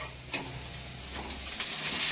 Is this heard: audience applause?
no